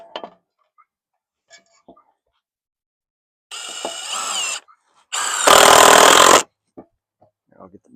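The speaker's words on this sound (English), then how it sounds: "Don't recommend using your power tools as hammers" Power tool used as a hammer to knock a recut piece into place, two bursts of motor whine and banging separated by short pauses, with faint clicks and handling noise around them.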